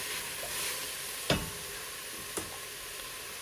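Fresh tomatoes and cilantro get stirred into a pot of sprouted-bean chili: a soft low sizzle with two brief spoon knocks against the pot.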